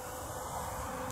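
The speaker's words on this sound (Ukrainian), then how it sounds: "бджоли оживають, вилітають" A faint, steady buzz of honeybees flying out of their hives in winter sun hums continuously, soft and even with no voices.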